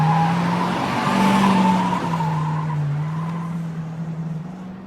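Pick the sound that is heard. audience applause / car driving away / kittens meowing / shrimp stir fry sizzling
car driving away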